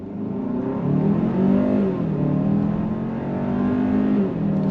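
A 2024 Hyundai Santa Fe Limited SUV with an 8-speed dual-clutch transmission accelerates under throttle, heard from inside the cabin. The engine drone climbs, dips briefly at shifts, then climbs again, steady and moderately loud with no talk.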